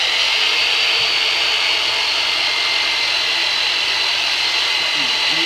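A chiropractic myofascial therapy device hums in a steady, loud, buzzing drone much like a power saw, running continuously without pause.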